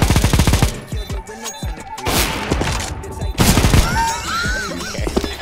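Rapid bursts of gunfire from the video game CS:GO, loud and close, with repeated volleys and automatic fire spread across the clip, a few sharp impacts standing out, and faint voices now and then.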